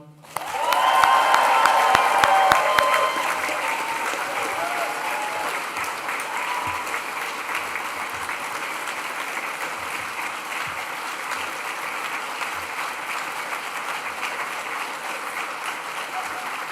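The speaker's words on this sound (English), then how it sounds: "let's mark this moment with a huge cheer and round of applause." A university sport and science graduation ceremony audience bursts into loud cheering and applause on a countdown, peaking in the first few seconds, then settling into sustained, slightly softer clapping that carries on steadily.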